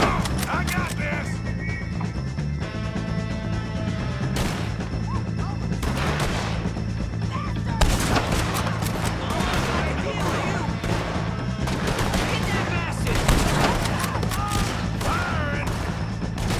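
Gunfire in a Red Dead Redemption 2 shootout, dense volleys of sharp loud shots and impacts cracking repeatedly over a rumbling background, with shouted voices mixed in.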